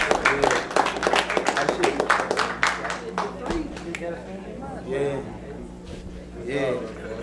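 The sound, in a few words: audience clapping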